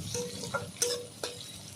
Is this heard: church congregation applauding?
no